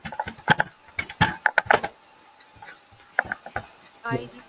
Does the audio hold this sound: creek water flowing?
no